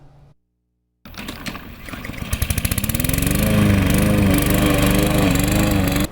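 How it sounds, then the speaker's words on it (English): A lawn mower starts up after a brief silence and runs loud and close, its engine rising from uneven pulses into a steady droning roar while mowing a yard. "I just like mowing yards."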